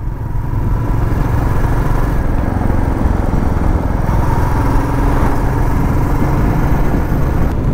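A motorcycle engine runs steadily while riding on a tarmac road from Tufanganj toward Chilapata forest, a continuous close drone with road and wind rumble and no pauses.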